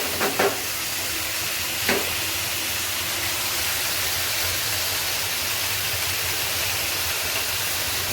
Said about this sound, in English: We're shallow frying, not deep frying.